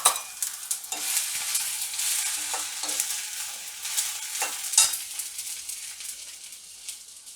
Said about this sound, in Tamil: தக்காளியை நல்லா ஒரு 2 நிமிஷம் நல்லாவே வதக்கிடுங்க.